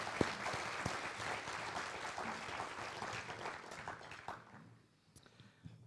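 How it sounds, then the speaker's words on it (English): Audience at a forum panel event applauding, a steady wash of clapping from many hands that carries on for several seconds, then thins out and fades near the end with a few last isolated claps. "so please give her another round of applause."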